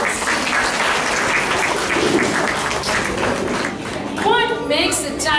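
A school audience applauds a children's stage performance with sustained, dense clapping, and cheers or a voice rise near the end as the clapping continues.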